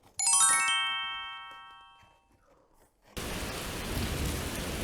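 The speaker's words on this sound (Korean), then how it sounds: "아버지, 비가 와요." A bright chime rings and fades, then after a short pause a dense, steady hiss of heavy rain takes over for the rest of the clip, evoking the flood downpour from the Noah's ark story.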